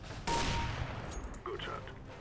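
A single sharp gunshot in CS:GO, loud and close with a short decaying tail, followed by quieter game sounds.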